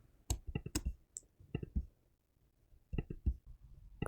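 Mouse clicks while drawing lines in Photoshop, a handful of quiet, close, sharp clicks spaced irregularly in two small clusters with near silence between them.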